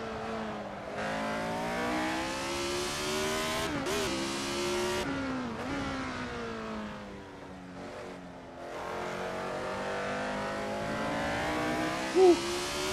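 High-revving race car engine in a retro F1 sim racing game, a loud continuous whine that climbs and drops sharply with gear shifts and braking, with a brief tire squeal near the end.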